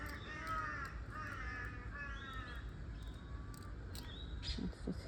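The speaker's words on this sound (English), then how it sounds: "Morning, crows." Crows caw repeatedly outdoors in a garden, a series of harsh calls at moderate distance over soft background ambience, with no talking.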